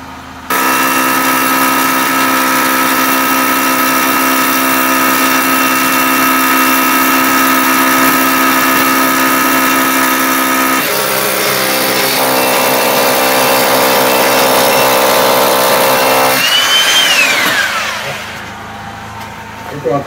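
Electric drill boring holes to hang curtains, a loud steady motor whine running for about seventeen seconds with a pitch shift midway, then winding down to a stop.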